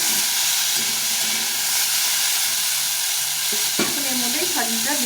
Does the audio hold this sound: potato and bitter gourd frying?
yes